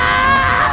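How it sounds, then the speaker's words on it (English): A woman screams in agony while caught in a Saw film trap, a loud, sustained, strained cry with no pause, filling the whole short moment. "a lot of pain she can't help but scream from"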